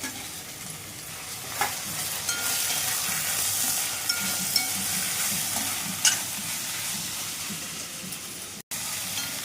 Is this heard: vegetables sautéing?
yes